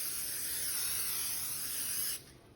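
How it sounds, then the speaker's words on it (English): Cooking spray hisses steadily onto a 13 by 9 cake pan in one continuous burst of about two seconds, close and clear, then cuts off. "I'm going to pan spray. And this is a 13 by 9."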